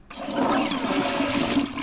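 Toilet flush sound effect from the You Don't Know Jack video game, a loud close rushing swirl of water that starts abruptly and roars steadily for about two seconds.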